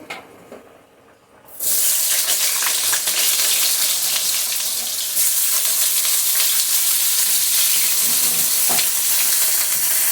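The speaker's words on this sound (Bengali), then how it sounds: "তেল গরম হয়ে গেছে, পটলটা দিয়ে দিচ্ছি" Pointed gourd (potol) hits hot oil in a pan: after a quiet moment a sudden loud burst of sizzling erupts and holds as a dense, steady hiss close by, with no one talking.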